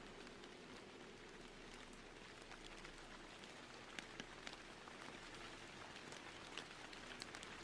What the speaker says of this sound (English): let's get the rain back in here.